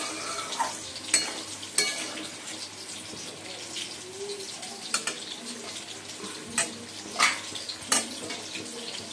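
Chicken and potatoes frying in a pan, a moderate sizzle broken by sharp scraping and clattering stirs at uneven intervals, nearby, with no voices.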